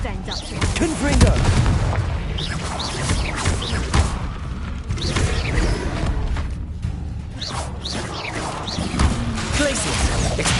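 Explosive Confringo spell blasts in Hogwarts Legacy, a dense run of booming impacts and crackling bursts over continuous combat noise, with shouted spell incantations mixed in throughout.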